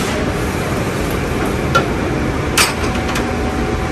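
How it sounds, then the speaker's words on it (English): Beef broth pours into a cooking pot of softened garlic while making a traditional holiday brisket, a loud, steady rushing splash and sizzle lasting several seconds with a couple of brief clinks. "now we're going to add our beef broth"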